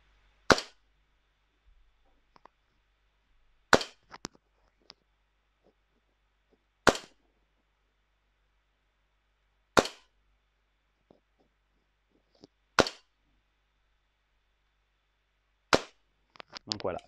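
Single shots from an airsoft 1911 MKIV CO2 gas blowback pistol, six or seven sharp cracks spaced a few seconds apart with near silence between them, close and clear.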